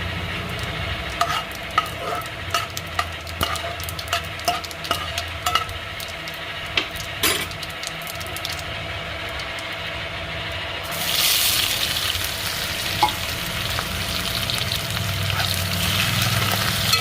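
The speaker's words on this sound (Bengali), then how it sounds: "তেজপাতা, শুকনো লঙ্কা, জিরে তেলের উপর দিয়ে দিলাম।" Bay leaf, dried chilli and cumin frying in hot oil: a spoon scrapes and taps close by at first, then a louder, steady sizzling hiss swells up and holds to the end, with no talking.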